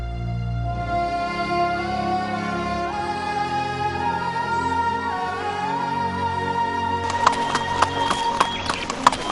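Horse hooves clopping in a busy rhythm over sustained music, the beats growing sharper and louder near the end, with a possible neigh mixed in.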